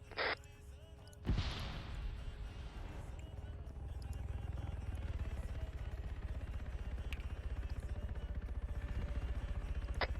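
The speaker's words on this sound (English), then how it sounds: "I'm hearing another helicopter. 2 times helicopters." Helicopter in a Gulf War–themed military video game, a steady low rumble that swells after a sharp onset and holds throughout, with a faint gasp-like sound near the start.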